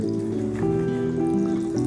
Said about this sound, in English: So the butter should melt and it should start bubbling